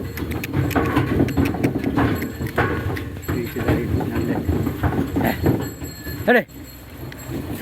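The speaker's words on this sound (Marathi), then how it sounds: "आपण बैलगाडा घेऊन जात आहोत घरी" Bullocks' hooves clop steadily on a dirt road with a rattling bullock cart over a low rumble, and people talk nearby.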